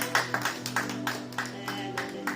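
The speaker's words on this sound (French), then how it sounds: "On va applaudir, on va applaudir" A church congregation claps in steady rhythm during a Sunday worship service, the sharp claps repeating about every third of a second over a sustained sung or played musical tone in a reverberant hall.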